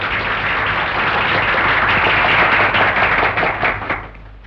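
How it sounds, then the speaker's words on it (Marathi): Dense crowd applause at a village inauguration celebrating a new schoolteacher's first job: many hands clapping steadily and loudly for about four seconds before tapering off. "अरे टाळ्या वाजवा की रे."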